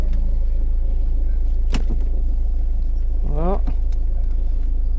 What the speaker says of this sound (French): La voiture a démarré.